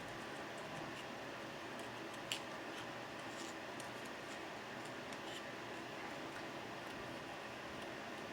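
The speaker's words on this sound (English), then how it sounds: "We all love fussy cutting, so I'm just basically cutting around the leaf, leaving a little bit of an edge." Scissors fussy-cutting around a paper leaf: faint, soft snips and ticks with one sharper cut, close but quiet under steady room noise.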